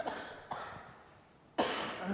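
A single short cough sounds close, followed by a quiet pause and then a louder burst of nearby throat noise, all at low overall level.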